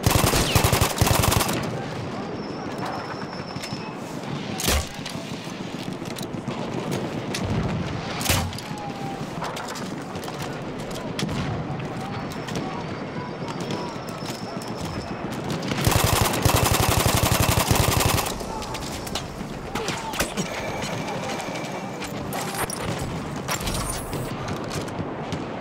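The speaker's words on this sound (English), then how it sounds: "Enemy machine gun." An enemy machine gun fires in Battlefield 1 multiplayer, loud sustained automatic bursts with sharp single cracks and booms mixed in, dense and close throughout.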